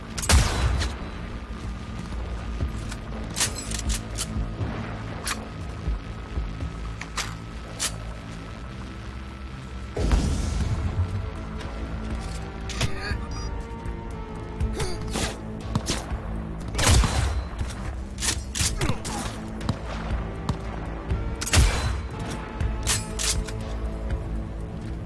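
Gunfire in Cyberpunk 2077: repeated sharp shots and bursts crack over a steady game soundscape, with heavier thumping blasts around the middle and near the end, close and loud throughout.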